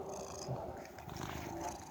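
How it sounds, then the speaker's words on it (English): A pet cat purring while rubbing her head against a tablet, a faint, steady low rumble close to the microphone with no talk over it. "My cat is rubbing her head all up against the tablet"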